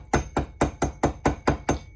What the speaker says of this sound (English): just start tapping that in. And I rotate it around, rotate the hammer around, rotate the pipe around